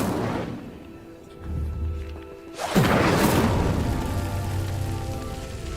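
Incendio fire spell cast in Hogwarts Legacy: a low rumble gives way to a sudden loud whooshing burst of flame that keeps roaring and crackling steadily to the end, with no voices.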